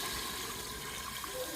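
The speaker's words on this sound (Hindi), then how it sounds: "तो हुण मैं ऐड करसा 2 गिलास पानी वाली" Water poured from glasses into a pot of fried lentil tempering and spices, a steady close gushing splash filling the pot for the whole stretch.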